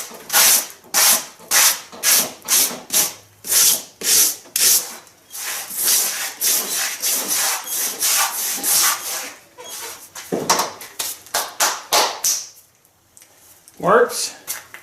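A blade repeatedly trims foam filler on a 3D archery bear target, making close, rhythmic rasping strokes. Later the strokes come in slower, irregular bursts, with a short quiet gap near the end.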